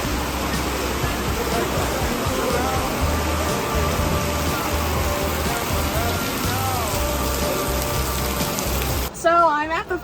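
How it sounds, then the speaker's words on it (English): Heavy rain pours down hard at an outdoor farmer's market, a dense steady hiss and patter that fills the whole stretch, loud and close, with a brief break of other sound near the end. "it's like 73 and raining really incredibly hard"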